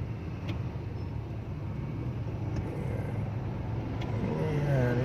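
Road traffic in a long traffic jam: a steady, low engine rumble of idling and slowly moving cars that continues without a break. A faint higher hum sits on top, and no one speaks.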